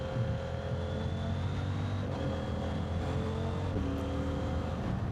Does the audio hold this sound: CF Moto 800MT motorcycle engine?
yes